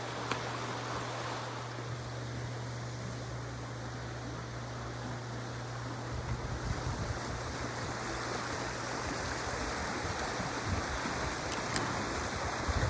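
Flowing river water near a roadside in Sevierville, Tennessee makes a steady, broad rushing wash, with a low engine-like hum underneath and no speech.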